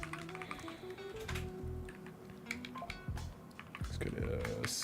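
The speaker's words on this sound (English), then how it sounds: "Even though it's a new keyboard and it's really weird to type with" Rapid clattering keystrokes on a new computer keyboard, soft and close, typed in quick irregular bursts under background music during a game development session.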